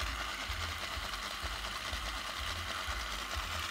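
A small motor drives a LEGO tractor model, turning its moving radiator. It gives a quiet, steady buzzing whir with a faint rhythmic low pulsing throughout.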